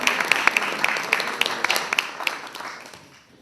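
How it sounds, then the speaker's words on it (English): Audience clapping along during a Christmas gathering, a series of sharp, fairly loud hand claps with some in rhythm, thinning and fading out toward the end. "You can clap."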